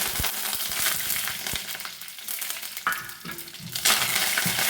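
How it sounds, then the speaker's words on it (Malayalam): Dried red chillies and curry leaves crackling in hot oil after mustard seeds have popped, a close, loud sizzle with sharp pops and ticks, several clicks near the start and a brighter burst of frying late on. "കടുക് പൊട്ടിക്കഴിഞ്ഞാൽ രണ്ട് വറ്റൽമുളക് പൊട്ടിച്ചിട്ടു കറിവേപ്പിലേക്ക്"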